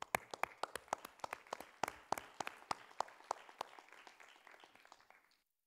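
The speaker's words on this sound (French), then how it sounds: "je vous invite à les applaudir" Applause at a municipal council installation in Meaux: a small group's distinct, sparse claps ring out in a steady patter, fairly quiet, then stop abruptly near the end.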